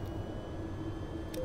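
A jet aircraft in the VTOL VR flight game comes in fast for aerial refueling with its air brake raised, a steady, fairly quiet engine roar held throughout with no talk.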